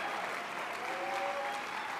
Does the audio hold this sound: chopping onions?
no